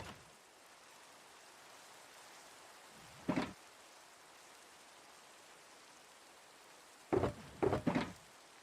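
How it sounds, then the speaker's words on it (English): Steady rainfall in a Minecraft world, a soft continuous hiss throughout with a couple of brief louder bursts of in-game sounds partway through and near the end. "Minecraft is all about the rain today"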